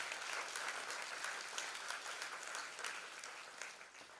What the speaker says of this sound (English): Let's start by giving a big round of applause to all of our friends so far who have performed